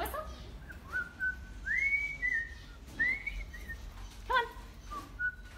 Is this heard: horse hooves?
no